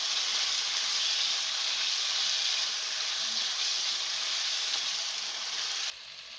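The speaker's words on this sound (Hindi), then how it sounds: "ये अच्छे तरीके से भून रहा है, जैसा कि आप देख रहे हैं कि इसका ऑयल ग्रेवी में से निकल रहा है।" Beef pieces for a sweet Kashmiri-style meat curry sauté in oil with the gravy, a constant soft hiss of sizzling that drops slightly near the end, nobody speaking.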